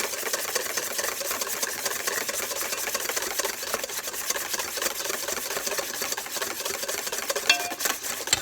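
A whisk beats hollandaise sauce vigorously in a bowl as clarified butter is slowly added, giving a continuous, fast, fairly quiet scraping and clicking rhythm with no talking.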